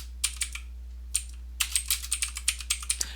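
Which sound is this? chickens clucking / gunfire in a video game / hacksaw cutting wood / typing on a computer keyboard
typing on a computer keyboard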